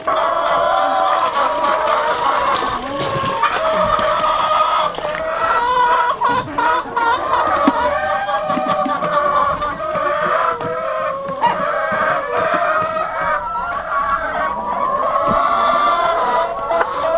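Several chickens cluck and squawk continuously nearby on a farm in freezing weather, overlapping calls with an occasional longer crow-like call, no talking.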